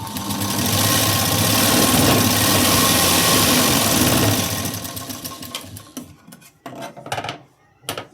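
A sewing machine runs a double line of stitching on a katori blouse in one loud, continuous whirring burst lasting several seconds, then stops, leaving quieter clicks and handling sounds.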